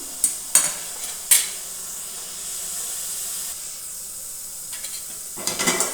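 Tomatoes with ginger-garlic paste cook in a pan, giving a soft steady sizzle broken by a few sharp scraping stirs near the start and again at the end.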